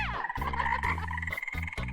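Frogs croaking in a frog video, a loud, close chorus of rapid, buzzy croaks with short pauses between bursts, no talking.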